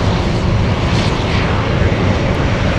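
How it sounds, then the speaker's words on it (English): A UPS cargo jet taxis toward runway 25 left at Anchorage for takeoff, its engines giving a loud, continuous broadband roar that stays steady and close throughout. "This one looks like it's heading to runway 25 left for takeoff."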